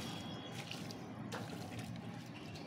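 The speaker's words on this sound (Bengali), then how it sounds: "এখন আমি এখানে ভরপুর করে জল দিয়ে দেব।" Water trickles and splashes softly at a star fruit tree's base as it is poured generously, a continuous faint wet gurgle close by, alone without talk.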